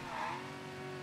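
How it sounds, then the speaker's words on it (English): A car drifting and skidding in the video game Mafia III, with a steady engine drone and a thin tyre squeal held underneath, brief and alone. "this car is like really drifting lately"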